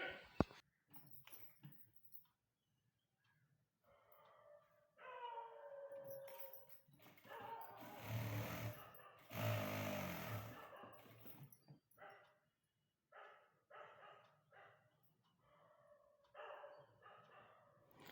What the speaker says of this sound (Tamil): வெளியில் ரோட்டில் பன்னிங்க போயிட்டுருக்கு. அதனால தான் நாய் குலைச்சிக்கிட்டே இருக்குது.